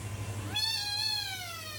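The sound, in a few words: cat meowing in a meme video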